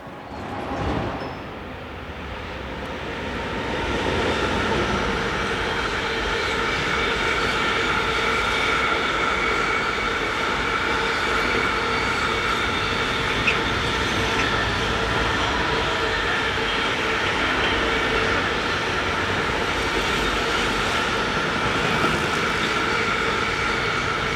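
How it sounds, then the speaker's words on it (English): German freight train hauled by electric locomotive 185 275 on the Würzburg line, heading north toward Hamburg; a loud continuous rumble of passing wagons builds in after a quieter start and carries on steadily to the end. "Heading north we have 185275 on train 50550 from Nürnberg to Hamburg Süderelbe."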